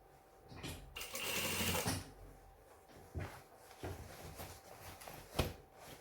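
A sewing machine stitches fabric for a pair of pants, running in a sustained burst early on, then giving shorter whirring runs and sharp clicks and knocks as the fabric is handled close by.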